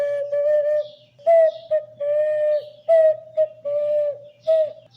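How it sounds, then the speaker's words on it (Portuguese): A zabelê, a carved wooden toy whistle, gives bird-like hoots in a steady sequence of sustained tones with brief breaks and small pitch bends, close and clear, with no voices over them. "Hoje eu conheci um brinquedinho que chama zabelê, um apitinho assim, que faz..."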